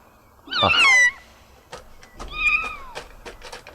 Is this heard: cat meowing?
yes